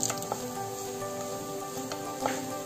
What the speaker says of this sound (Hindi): अब हम इसमें जो मूंगफली ली थी वो डाल देंगे।